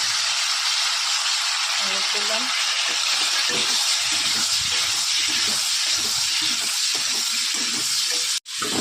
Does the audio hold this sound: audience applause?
no